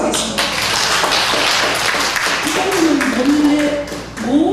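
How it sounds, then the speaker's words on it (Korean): A church congregation clapping during a worship service, a loud busy patter of hands lasting several seconds, with a voice talking over the end. "박수 하겠습니다"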